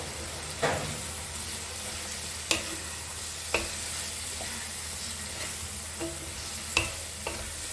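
Shredded cabbage for Bengali vegetarian bandhakopir ghonto being stir-fried in oil in a pan: a steady sizzle broken by sharp spatula scrapes and knocks every second or two, close up, with no talk.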